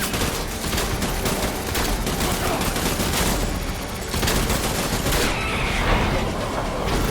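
Shotgun fire in Death Stranding, loud repeated blasts and dense crackling gunfire packed together over several seconds, with a voice talking over the shots in places.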